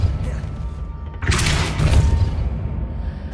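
A Repulso spell is cast in Hogwarts Legacy: after a quiet stretch, a sudden whooshing magical blast bursts out with a deep thud and rumbles on for about two seconds, with faint background ambience around it.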